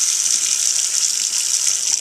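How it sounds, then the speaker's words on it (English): Water runs steadily from a kitchen tap, a close, constant hissing gush with no pauses. "Turn this water off."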